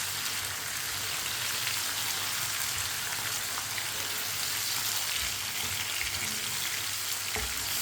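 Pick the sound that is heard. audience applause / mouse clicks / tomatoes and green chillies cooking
tomatoes and green chillies cooking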